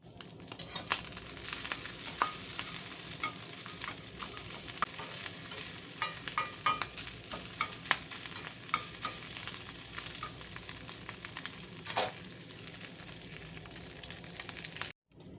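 Bacon and sausage sizzle steadily in a pan, a dense continuous crackle of fat with scattered sharper pops, close and fairly quiet throughout, no voices.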